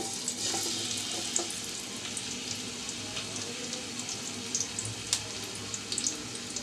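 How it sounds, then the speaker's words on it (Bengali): Chopped onions fry in oil in a pan with a dense, crackling sizzle that runs steadily, with small pops and occasional stirring knocks close by. "দিচ্ছি কিছু পেঁয়াজ কুচি"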